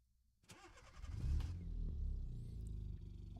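A 2.1-litre inline-four in a drag car cranks and catches, then settles into a steady, fairly loud idle with a low rumble.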